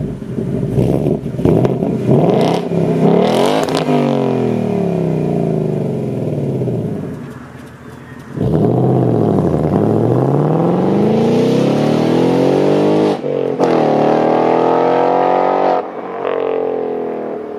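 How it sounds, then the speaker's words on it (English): A Ford Mustang GT's Coyote V8 roars through its active exhaust, loud and close. It revs hard and rises through the gears in long sweeping pulls with brief dips between shifts, and no one speaks. "The Coyote V8 sounds amazing. With the active exhaust, you can have it quiet, you can have it super loud, insanely loud actually"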